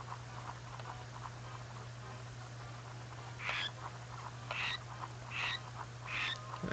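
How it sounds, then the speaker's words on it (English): Squawks the parrot from Donkey Kong 64 lets out a series of short, sharp squawks, four or five bursts spaced about a second apart, over a steady game background hum, without talking. "Quit squawking at me, Squawk."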